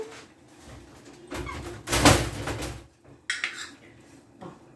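Fried onions and flour being stirred together in a bowl, with clattering scrapes and knocks of a utensil against the bowl in irregular bursts, close and moderately loud, with one stronger rattle in the middle.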